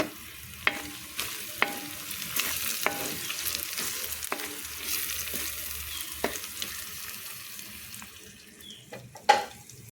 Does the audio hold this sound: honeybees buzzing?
no